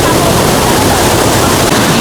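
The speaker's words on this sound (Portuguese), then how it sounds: "aí essa cachoeira vai alimentar o outro lago que tá lá na frente." A waterfall in China feeding a lake below, heard as a loud, steady, broadband rush of falling water that fills the whole short stretch without break.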